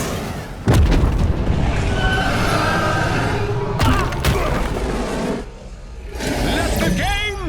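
Missile explosions in a LEGO Marvel Super Heroes 2 cutscene: loud, dense booming blasts start near the opening and keep rumbling throughout, with a second burst midway and a shorter one near the end, mixed with game effects.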